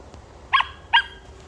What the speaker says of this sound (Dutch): Blaffen, hè? Ze gaat blaffen.